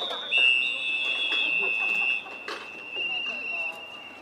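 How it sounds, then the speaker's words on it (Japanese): A referee's whistle at a college American football game in Hokuriku, a long sustained shrill blast lasting about two seconds with a shorter follow-up tone, sounding over crowd noise and a commentator's voice. "ここでホイッスル。"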